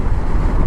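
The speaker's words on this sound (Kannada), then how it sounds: "Wind blast, heavy wind blast ನೋಡಿ." Heavy wind blasts against a rider on a Yamaha R15 V3 motorcycle, a loud, low rumbling roar of air buffeting the microphone in one brief burst.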